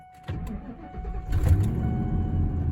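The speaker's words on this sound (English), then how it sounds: "Truck fires up, sounds good." A truck engine cranks and fires up, then settles into a steady, close rumbling idle.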